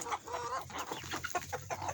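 Chickens cluck and chatter close by while scratching at treats on the ground, a busy overlapping flock of short clucks and calls with no talking.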